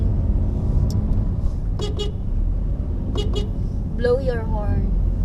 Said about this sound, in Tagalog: Blow your horn.